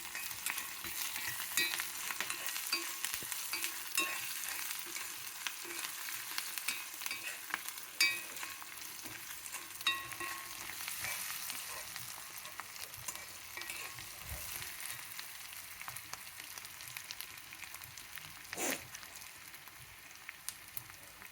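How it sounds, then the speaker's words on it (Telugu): Asafoetida and spices tempering in hot oil in a pan, giving a steady close-up sizzle and crackle with light stirring throughout, no voices. "పోపు బాగా కొంచెం వేగితేనే మళ్ళీ మాడిపోకూడదు"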